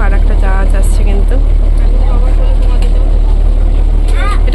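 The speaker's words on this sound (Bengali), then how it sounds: "দেখো আর একটা জাহাজ আসছে" A ship moves along a river in the Sundarbans with a heavy, steady low engine drone close by, while voices chatter over it the whole time.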